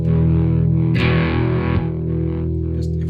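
Electric guitar through a Kernom Ridge pedal preset with distortion, a loud sustained overdriven chord ringing out with a brighter picked attack near the middle, close and alone.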